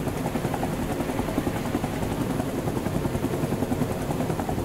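Continuous rhythmic chopping of helicopter rotor blades, steady and fairly loud, heard close with no voices, in the video game Rising Storm 2: Vietnam.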